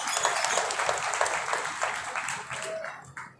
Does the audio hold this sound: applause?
yes